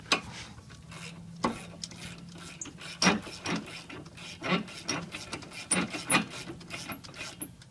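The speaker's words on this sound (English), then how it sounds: "we'll use our long ratchet again, or breaker bar, and tighten them down real good." A long ratchet tightens brake caliper bolts on a Ford Escape during a front brake pad and rotor job, giving a series of irregular metallic clicks and knocks at close range in a quiet garage.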